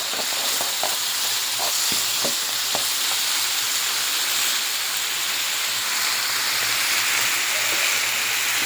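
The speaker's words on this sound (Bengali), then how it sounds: "রসুন বাটা, লবণ, হলুদ দিয়ে মশলাগুলো কষে নিচ্ছি।" Garlic paste, ginger and onion paste, salt and turmeric spice mix frying in a pan, a loud continuous hissing sizzle with a few sharp stirring scrapes early on, close and with no talk.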